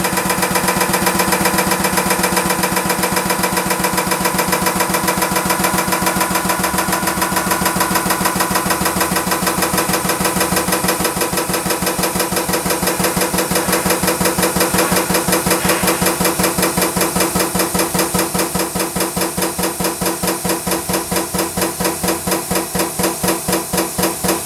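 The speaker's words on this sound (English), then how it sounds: "See the hydraulic pressure starting to build." An air/hydraulic filter press builds hydraulic pressure with a steady, loud pulsing mechanical drone, a fast rhythmic pumping throb that continues unbroken throughout.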